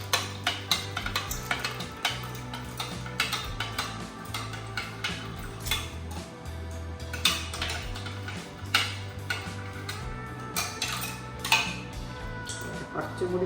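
Sugar and Tang powder being stirred together in a dish, a spoon clinking and scraping steadily in quick irregular taps, close and moderately loud, with no talking.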